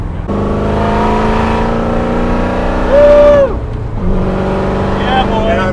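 A supercharged Coyote V8 in a Superformance Ford GT40 revs loudly and close, a sustained rich engine tone that climbs, falls back and rises again, with voices talking over it.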